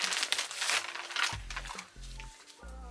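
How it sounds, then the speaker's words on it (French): Plastic packaging crinkles and rustles as a bag of second-hand luxury items is unpacked, close and fairly soft, in irregular bursts with brief pauses and light handling thumps. "Je vais vous déballer tout ça"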